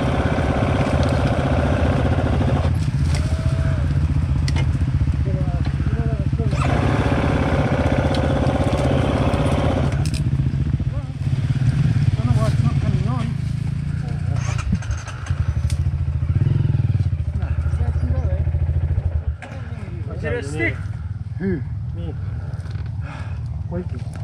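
A motorcycle engine idles steadily nearby, a continuous low rumble with slight changes partway through, while people talk over it.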